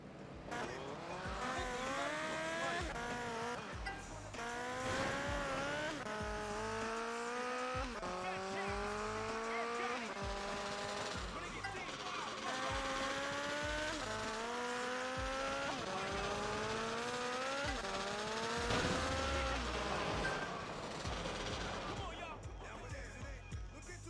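Tires squealing repeatedly as a car brakes and slides in GTA Liberty City Stories on PS2, with long rising-and-falling screeches over engine drone and game noise throughout.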